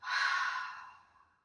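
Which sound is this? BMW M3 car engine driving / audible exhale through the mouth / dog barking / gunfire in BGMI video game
audible exhale through the mouth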